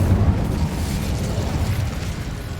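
A fire spell explodes in a wizard video game, a heavy, low rumbling burst that roars on continuously and loudly for a couple of seconds with no talking.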